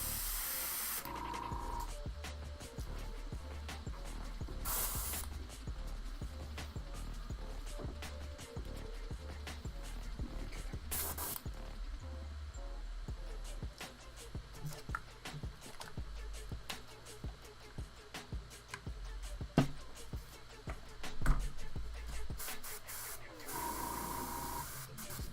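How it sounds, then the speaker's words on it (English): An airbrush spraying paint onto a Tyranid miniature at a hobby workbench, a steady soft hiss running throughout with brief louder bursts, fairly close and with no talking. "Well, it's spraying. It's just taking a while to get it out."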